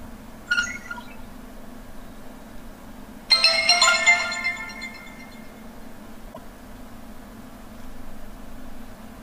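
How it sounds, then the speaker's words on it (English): An HTC Hero Android smartphone plays a short startup chime while rebooting after a hard reset, a brief tone first, then a louder bright jingle, over quiet background hum. "Now the phone is rebooting."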